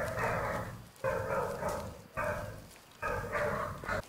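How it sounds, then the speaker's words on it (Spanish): Dogs barking in the hunting video game Way of the Hunter, four bursts of loud, repeated barking spaced about a second apart, close and with no talk. "los perros del vecindario están tremebundos"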